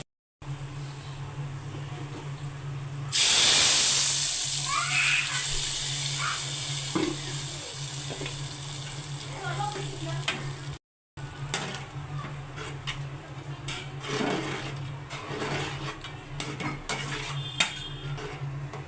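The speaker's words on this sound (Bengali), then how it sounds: "আমি পেঁয়াজ বেরেস্তাটা করে নিচ্ছি" Onions sizzling in hot oil while being fried into crisp beresta garnish for haleem, a steady broadband hiss that swells loudly near the start and continues with small clinks of utensils against the pan, with no talking.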